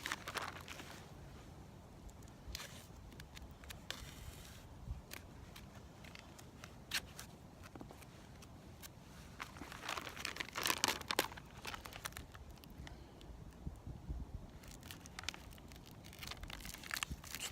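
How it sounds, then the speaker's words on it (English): Gorilla Tape being torn and pressed down, close, quiet crinkling and ripping bursts at irregular intervals, with a denser stretch of tearing midway. "Now I'm going to put another strip of Gorilla Tape around here."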